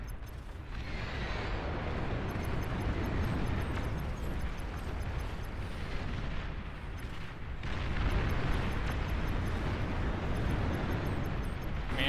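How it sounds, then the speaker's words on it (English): Massive sustained explosion of a destroyed commander unit in the real-time strategy game Beyond All Reason, a dense roaring blast that rumbles continuously for about twelve seconds with a renewed surge near the end. "Look at that beautiful explosion."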